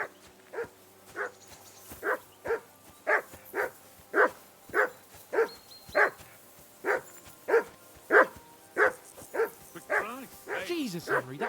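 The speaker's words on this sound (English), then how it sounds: "Henry, that barking's driving me nuts." Repeated dog barks in the medieval role-playing game Kingdom Come: Deliverance, a steady run of about fifteen loud, evenly spaced woofs close by, with faint speech mixed in near the end.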